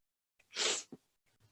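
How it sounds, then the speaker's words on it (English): A single loud sneeze, brought on by allergies, bursts out close and alone, followed by a short sniff and faint breathing. "I'm going to probably sneeze a couple times. I have allergies."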